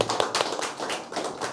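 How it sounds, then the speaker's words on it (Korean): An audience claps to welcome two guests, a PD Su-cheop producer and a Kangwon National University professor, at an event about a whistleblower film; the clapping is close, uneven and moderately loud, with no talk over it. "큰 박수로 예. 한번 환영해요."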